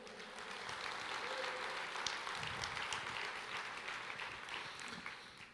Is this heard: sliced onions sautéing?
no